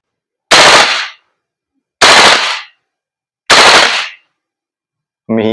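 Three loud, close bursts from an Umarex HK416D Gen 3 airsoft gas blowback rifle by VFC Taiwan, each a rapid rattle of shots about half a second long, separated by silent pauses, with a brief voice starting at the end.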